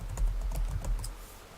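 Quick taps on a computer keyboard, a short burst of light clicking keystrokes close by and fairly soft.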